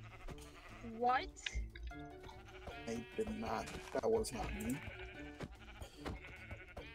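Sheep in the video game Minecraft bleat several times in short wavering cries, mixed in with lively overlapping talk from players.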